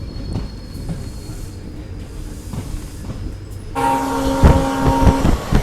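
A diesel-engine train runs on a single line, its rumbling wheels and rail clatter building into a loud horn blast with squealing tones in the last seconds.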